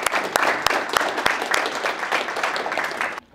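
Applause from a small audience at a Lionel train users group meeting, with distinct individual claps standing out in a steady patter that stops abruptly at the end.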